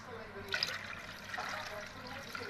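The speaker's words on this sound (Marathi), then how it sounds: "आपण पाणी टाकायचं त्याच्यात" Water is poured into thick buttermilk in a container, a soft splashing trickle that swells and fades, with a voice faintly in the background.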